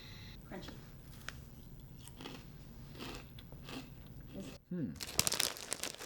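Crunchy Canadian Hostess hickory sticks eaten from a crinkly snack bag, with close bag rustling and crisp bites and chewing, rising to a louder crackle of the bag near the end.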